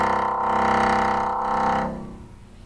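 A sustained, dense tone with a slowly wavering loudness that swells and dips over a couple of seconds, then fades away.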